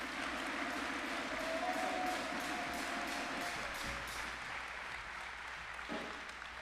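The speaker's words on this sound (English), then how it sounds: "let's give a big round of applause for our speaker today" A crowd of young men at a Boys State gathering applauds a guest speaker, a thick continuous roar of clapping with a low hum beneath, gradually easing as it goes on.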